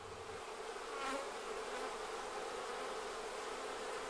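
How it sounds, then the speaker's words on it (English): A steady, faint hum of many honeybees buzzing at the hive nest in springtime, a dense droning swarm with one bee briefly flying closer. "this is where the nest is, because that's where all the bees are"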